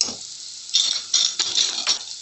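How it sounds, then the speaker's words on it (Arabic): A spoon stirs tomato paste with softened peppers in a frying pan: a faint scrape, then from about the middle a run of close, gritty scraping strokes over a light sizzle. "وهنديها تقليبه كده مع الفلفل."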